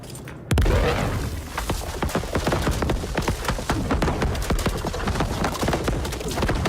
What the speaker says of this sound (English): Once primed and ready, the Scorch will explode on impact, unleashing a burst of intense plasma damage to your target